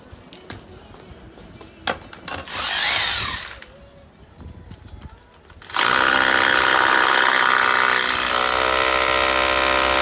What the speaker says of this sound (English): I will drill another hole and until it does grip